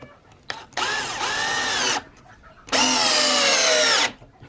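A Hychika 2-speed cordless drill on its second setting drives a screw in two loud, sustained whirring bursts of about a second each, separated by a short gap, with a brief click just before the first.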